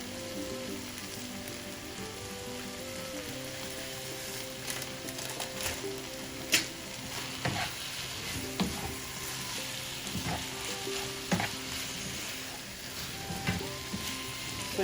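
Beef stir fry with sesame seeds sizzles steadily in a pan, a constant frying hiss with occasional sharper pops and scraping stirs, with quiet music underneath.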